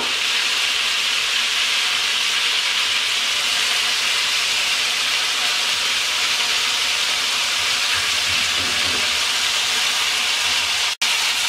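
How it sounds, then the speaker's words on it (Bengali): Tandoori chicken cooks in a covered pan over medium-low heat, giving a steady, loud hiss of sizzling and steam with a brief soft rustle as the pieces are turned near the end. "এবার চিকেনটাকে উল্টিয়ে দিচ্ছি।"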